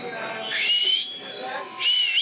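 A person whistles a short, wavering two-part tune, close and fairly quiet, with each phrase sliding up in pitch and a breathy hiss behind it.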